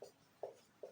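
Chalk or marker strokes on a classroom board while a definition is written, three short scratchy strokes in an even rhythm, faint and close, with no talking.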